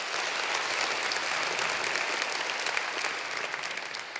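A stand-up comedy audience in Oslo applauds loudly and steadily, a dense wash of clapping that holds for several seconds before easing slightly at the end.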